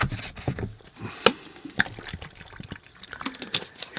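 Fresh, clean water is poured into a painting water bucket beside a watercolor palette, making faint, uneven splashes and trickles with a few sharper drips.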